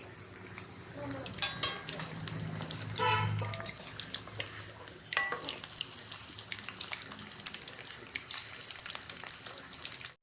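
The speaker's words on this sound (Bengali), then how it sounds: "আপনারা দেখতেই পাচ্ছেন পকোড়া ভাজা হচ্ছে, অনেকটা লাল লাল হয়ে এসেছে" Chicken pakoras deep-fry in hot oil with a soft bubbling sizzle, fairly quiet and close, broken by a few louder clatters and stirring scrapes.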